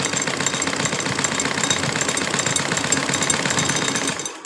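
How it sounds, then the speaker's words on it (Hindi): A sewing machine stitches lace along a fabric crease, its needle chattering in a fast, steady mechanical rhythm that runs close and loud without pause before cutting off at the very end. "क्रीज़ के ऊपर मैं लेस को रखती जाऊंगी और सिलाई लगाती जाऊंगी"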